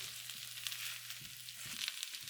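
Food fries in a pan with oil, giving a steady close hiss and crackle with a faint low hum underneath and no voices.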